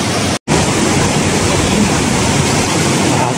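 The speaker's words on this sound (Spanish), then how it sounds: "¡Oh, vean esa cascada, amigos! ¡Qué impresionante!" Waterfall inside the Sótano de la Lucha cave in Chiapas, a loud, dense, continuous roar of falling water filling the space, close and unbroken apart from a split-second dropout near the start.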